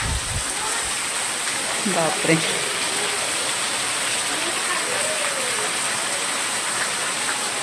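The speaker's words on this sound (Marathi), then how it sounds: "आज पावसाला ना खूप जोर आलेला आहे" Heavy monsoon rain pours down steadily at a home in Shrivardhan in the Konkan, a dense, loud, unbroken hiss of water; a voice briefly exclaims over it.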